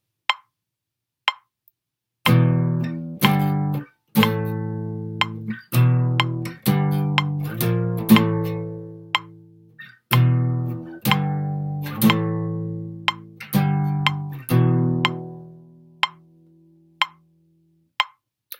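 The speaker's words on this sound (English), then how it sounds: "then add in the full power chords" Guitar power chords struck one after another in a rhythmic pattern, each chord ringing briefly before the next, with short pauses between phrases.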